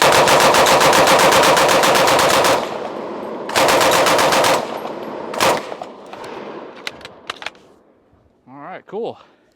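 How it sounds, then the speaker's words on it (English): A Bren Mark II machine gun from WWII fires fitted with a suppressor, two long, loud sustained bursts of rapid shots, then scattered single clanks and echoes, with brief speech at the end. "this is our Bren Mark II, and we're going to shoot it"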